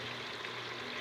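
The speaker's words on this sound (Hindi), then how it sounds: "अब पानी देखें अच्छा खासा उबल गया।" Water boiling in a cooking pot for chicken biryani, a faint steady bubbling and rushing hiss with no voices.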